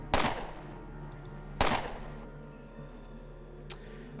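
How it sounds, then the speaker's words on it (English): Two loud, punchy 9mm gunshots ring out in the Underrail video game a second and a half apart, each with a short decaying tail, followed by a faint click. "Alright, I'm going to start shooting. This is going to make a lot of noise"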